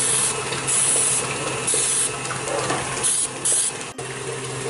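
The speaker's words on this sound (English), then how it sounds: "We have covered it with the spray as well as flour." Cooking spray hissing onto a cake pan being prepped with spray and flour for an espresso rum cake, several bursts of close, loud spraying in steady pulses with brief pauses between.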